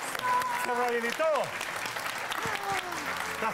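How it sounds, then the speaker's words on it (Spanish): Studio audience at a Chilean TV comedy show clapping in a brief burst, with loud voices calling out over the applause. "¡Un aplauso!"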